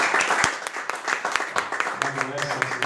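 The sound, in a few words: congregation applause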